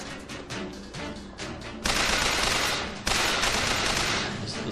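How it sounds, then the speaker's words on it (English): Rapid bursts of gunfire from a burst-firing weapon in BioShock Infinite, loud and close, with dense repeated volleys that kick in sharply and keep rattling over a busy game backdrop. "This little burst firing."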